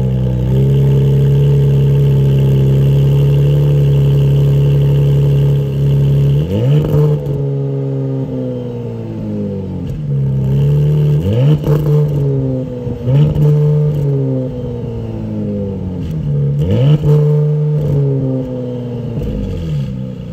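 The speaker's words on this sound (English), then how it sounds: "I think the exhaust sounds pretty phenomenal for essentially being the base trim" A 2023 Porsche Panamera 4 Platinum Edition with sport exhaust idles steadily, then gives four sharp throttle blips, each revving up and falling back to a burbling idle, loud and close.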